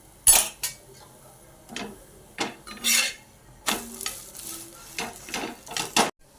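An egg roll made with a flatbread cooks in a pan as oil is added, with a soft sizzle broken up by repeated close scraping and clattering of a spatula against the pan in uneven bursts.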